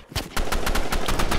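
Rapid bursts of gunfire from a Roblox Rivals match, a loud run of evenly spaced shots kicking in after a brief quiet start and continuing steadily to the end.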